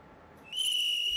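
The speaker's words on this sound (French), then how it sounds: "des manifestants ont sorti leur sifflet contre le président congolais" Protesters in Kinshasa blow whistles against the Congolese president: a shrill, sustained whistle tone starts partway through and holds over a murmuring crowd background.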